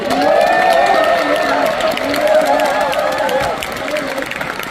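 A volunteer day ceremony audience gives a round of applause of thanks, steady crowd clapping heard close and loud alongside voices and tonal sounds, fading slightly toward the end.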